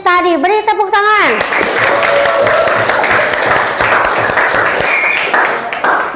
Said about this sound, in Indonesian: juara 1, 2, 3 yang telah memenangkan kuis tadi. Beri tepuk tangan.